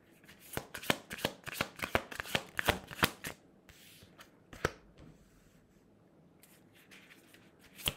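Playing cards handled up close: a quick run of sharp riffling snaps and flicks, then quieter rustling and a few scattered taps as a card is pulled out.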